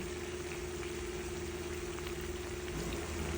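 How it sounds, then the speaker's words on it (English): Stewed chicken wings simmer in a covered pot, giving a faint, steady bubbling hiss that continues evenly throughout with no voices. "I am going to cover it, let it simmer down, and then I'll stir everything together."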